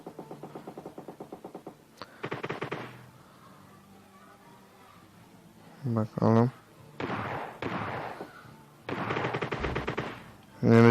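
Groza rifle fire in PUBG Mobile comes in rapid automatic bursts of close, loud shots, several volleys spread out with short pauses between them, while someone talks over the action.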